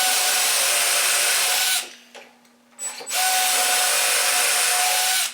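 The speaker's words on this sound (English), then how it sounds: "I'm going to drill holes 2 and 4" A power drill bores dowel holes through a DowelMax jig in woodworking cabinet work, a loud steady high whine that runs twice with a brief dip and clatter between.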